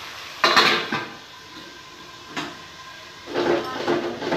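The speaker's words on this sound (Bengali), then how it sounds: "এবার মিশ্রণটাকে আমি ভালো করে নাড়বো একটু মজার জন্য" A spatula stirring an egg curry spice mixture in a pan over medium flame, close scraping and clanking in a few bursts with quieter gaps, no talking.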